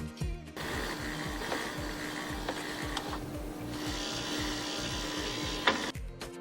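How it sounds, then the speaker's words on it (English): Ice falling into a refrigerator's ice storage box, with a continuous mechanical rattle and rapid repetitive clatter, moderately loud and close, broken by a few sharper knocks. "The rattling sound you're hearing could be the ice dropping into the ice storage box."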